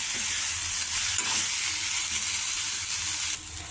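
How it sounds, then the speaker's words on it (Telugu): Plantain pieces and grated coconut frying in a pan, a steady bright sizzle running throughout with faint stirring, easing slightly near the end. "కొద్దిగా కొబ్బరి, అరటికాయ ముక్కలు బాగా మిక్స్ అయ్యి ఫ్రై అవ్వాలి"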